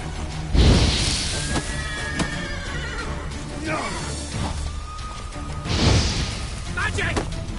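Two loud horse whinnies a few seconds apart, with thuds and shouting voices in between, like a busy battle scene, in the video game The Witcher 3: Wild Hunt.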